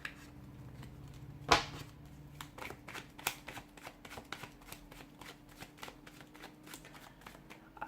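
Tarot cards riffled and shuffled back into a deck, a steady run of crisp, close flicks and snaps lasting several seconds with one louder slap near the start, no talking.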